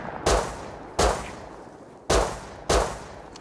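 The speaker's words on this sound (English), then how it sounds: "Whoa, who shot? I can hear that." Four sharp gunshots in the video game Rust, loud and spaced irregularly about a second apart, each a sudden crack followed by a short decaying tail.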